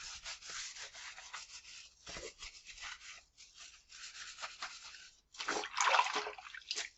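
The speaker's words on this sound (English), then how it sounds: "use the back of your sponge and go over it. Just clean the back of your sink" A sponge scrubs the back of a kitchen sink in steady rubbing strokes with short pauses, a close, fairly quiet swishing scour that grows louder near the end.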